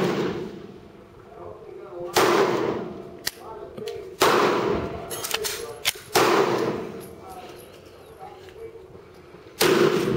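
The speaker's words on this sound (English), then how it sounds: "now we're going to shoot at this bottom left square" Single pistol shots from a Grendel P30 or FN Five-seveN are fired at a target, four sharp loud cracks spaced a couple of seconds apart, with quiet talk between them.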